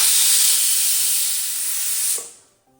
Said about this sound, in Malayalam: കുക്കറിൻ്റെ വിസിലൊക്കെ മൊത്തത്തിൽ പോയിട്ടുണ്ട്.